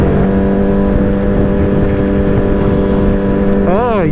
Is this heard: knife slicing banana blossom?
no